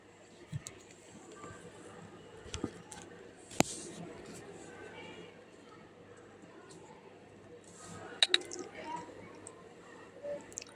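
A spiced egg and pointed gourd curry with turmeric and garam masala is stirred in a pan. Soft, faint squishing scrapes come with sporadic sharp clicks of the utensil against the pan, loudest in a cluster near the end.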